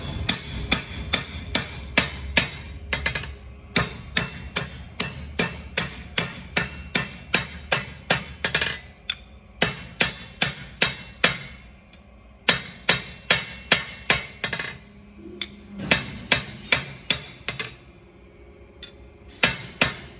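Repeated sharp metallic hammer strikes on a bent metal frame, straightening it, in steady bursts, ringing slightly, with short pauses between runs of blows; close and loud, no talking.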